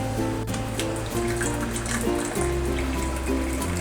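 Water poured steadily into a cup or pan while making keto coffee with cream, ghee and butter, a continuous close pouring sound with no talk.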